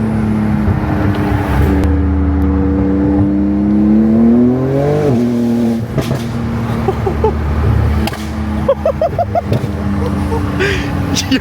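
A Porsche 911 Turbo S cruises through a supercar meet at night, engine droning steadily before a short rev, then easing off amid scattered nearby sounds.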